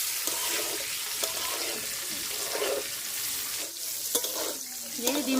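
Eggs frying in oil with turmeric and salt give a steady close sizzle with faint spatters and utensil stirring noises throughout, with no talking.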